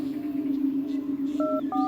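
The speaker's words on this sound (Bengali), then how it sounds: "আর একবার সে ফোন করলো মেঘনাথ মাইতিকে" Two short electronic beeps from a telephone keypad being dialed ring out near the end, over a steady low hum.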